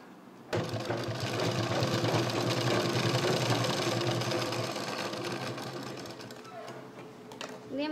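A sewing machine stitches a seam on a folding jute purse, running in one steady, close, whirring burst for several seconds before slowing and stopping near the end.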